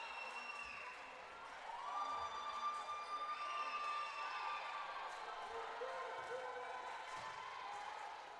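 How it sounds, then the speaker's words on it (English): A crowd in a gym at a women's college volleyball match, RCU against University of Northwestern Ohio, cheering and shouting steadily at a distance, with a whistle-like tone and scattered voices rising over the roar. "the crowd gets back into it."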